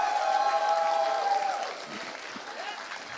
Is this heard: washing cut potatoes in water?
no